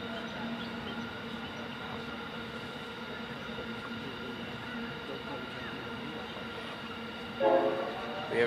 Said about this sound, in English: We have a train running past us again. This one's a CBH train for our wheat delivery to port from WA.